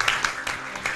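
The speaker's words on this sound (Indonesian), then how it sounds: "Studio 2-nya kok sepi banget, mana tepuk tangannya?" Studio audience applause on a Ramadan television talk show, a brief burst of scattered clapping with a few distinct claps standing out, moderately loud over about a second.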